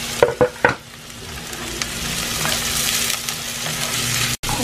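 Aromatics sauté in a pan for lugaw, rice porridge, with a few utensil scrapes on the pan at the start, then a steady, close sizzle that builds and holds.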